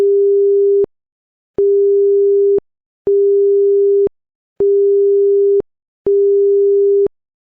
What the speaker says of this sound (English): This might be another situation where you may sound 5 or more rapid short blasts.